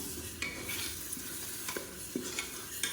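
Ginger garlic paste sautés in oil in a pot for mutton biryani, a steady sizzle running throughout, broken by occasional scrapes and clinks of the stirring spoon.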